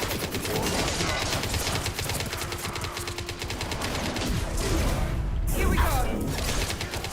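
Sustained rapid automatic gunfire in Mass Effect 2 combat, loud and continuous with overlapping weapons and a crash near the end, while a voice calls out briefly.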